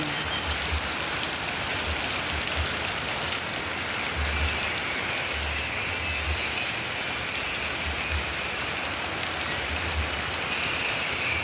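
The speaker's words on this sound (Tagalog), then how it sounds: "Ayan, puro ulan." Heavy typhoon rain with no wind pours down in a dense, steady hiss, drumming on surfaces nearby with a low rumble underneath, constant from start to finish.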